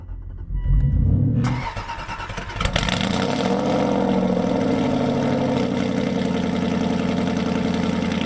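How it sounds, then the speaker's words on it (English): An Aston Martin engine cranks for about two seconds, catches with a loud roar, then settles into a steady, rough idle close by. "Not the best cold start sound in the world, but not terrible."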